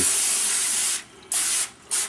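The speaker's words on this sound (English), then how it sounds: "I've got some olive oil, non-stick spray. I'm going to put some of that in the bottom of it" Non-stick olive oil cooking spray hisses into a baking dish in three bursts, a long spray followed by two shorter ones, close and loud with no talking.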